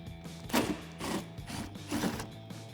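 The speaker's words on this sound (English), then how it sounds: "I'm going to remove that with a 10mm socket." Socket wrench loosening a 10mm bolt on a 2005-2009 Toyota Tacoma bumper, a few quiet ratcheting clicks in short bursts, close up with no talk.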